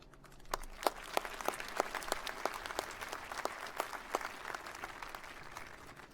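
Scattered, faint clapping from a few audience members at a Mississippi gubernatorial inauguration ceremony, distinct separate claps spaced irregularly across a quiet, reverberant hall.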